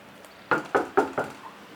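Four sharp knocks strike a door in quick, even succession, firm and fairly close, with a quiet room background and no talking.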